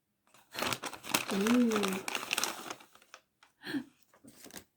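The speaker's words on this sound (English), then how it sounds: "What has this little paper bag got for me today?" A small paper bag crinkles and rustles as it is opened by hand, in repeated close bursts of crumpling, with a voice speaking over part of it.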